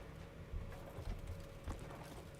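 Horse hooves clip-clopping at a steady walking rhythm in the video game Crimson Desert, fairly quiet and close, with soft, regular thuds over a low ambient background.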